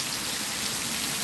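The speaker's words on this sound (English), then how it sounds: "But that rain is getting all the way up here now." Heavy rain pours steadily onto surfaces nearby, a dense, even hiss of drops with no talking.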